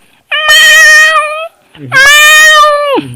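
A person imitates a cat, giving two long, drawn-out meows close up with a short pause between them.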